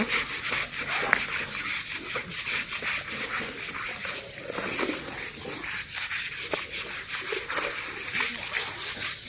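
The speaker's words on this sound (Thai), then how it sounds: "ขัดขัดทูถูให้พี่งามนะ" An elephant's skin is scrubbed during a bath, making a repeated rough brushing and rubbing rasp with wet splashy touches in a steady, close rhythm.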